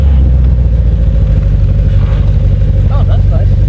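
BMW X5 50i fitted with a cheap Alibaba valved exhaust, its engine rumbling loudly and steadily up close, with voices breaking in briefly near the end.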